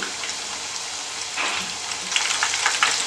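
Chicken fingers sizzle and fry in a pan of oil over a medium flame, a steady close crackling hiss that grows slightly louder toward the end, with no talking.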